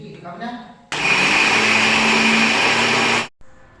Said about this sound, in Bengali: মিক্সিতে মানে ভালো মতন একটু পেস্ট করে নেব